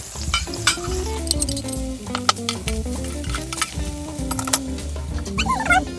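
Garlic sautés in a Saladmaster 4.5 braiser pan, limited edition, with a lively close sizzle broken by stirring scrapes and sharp clinks of a utensil against the pan.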